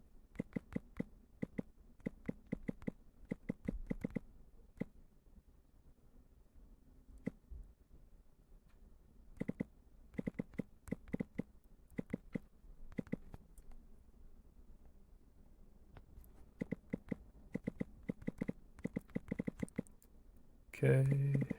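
Keys clatter in quick irregular bursts on a computer keyboard set to an Esperanto layout, close and fairly quiet, with short pauses between flurries.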